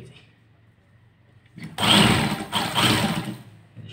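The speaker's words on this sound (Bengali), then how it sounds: "সেলাই করতেছি এখন।" A tailor's sewing machine stitches a Kallidar Punjabi in one loud, close whirring run of about two seconds, starting after a quiet pause and dropping off sharply at the end.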